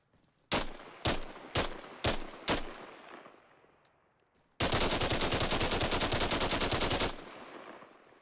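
FN SCAR rifle fire in the video game Arma Reforger: five spaced single shots, each with a decaying echo, followed by a loud sustained automatic burst of about two and a half seconds.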